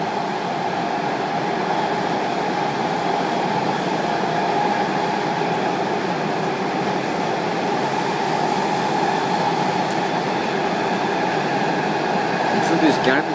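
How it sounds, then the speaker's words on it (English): Ride aboard a rehabilitated Breda 2047 railcar on the Washington Metro Red Line toward Gallery Place, a steady loud interior rumble and whine with faint rail clatter and air conditioning hum throughout, with voices talking over it. "This train will go to Gallery Place and turn around and go back"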